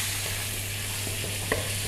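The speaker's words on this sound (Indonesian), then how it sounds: "ini tepung dan menteganya itu kita masak ya." Flour and butter roux sizzles and fries steadily in a pan, a continuous close hiss with a faint stir or clink of the utensil near the end.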